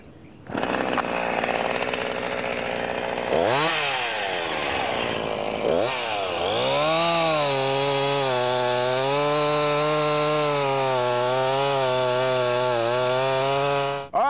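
A chainsaw makes a back cut in a tree during block rigging, its engine loud and close as it revs up, dips briefly, then holds a steady high whine through the cut.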